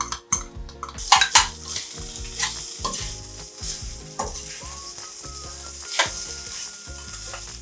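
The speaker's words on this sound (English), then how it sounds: "So we're just going to mix this into the rice nicely." A utensil stirs gochujang sauce into fried rice in a pan, producing repeated scraping and clattering strokes against the metal over a constant loud sizzle, with no talking.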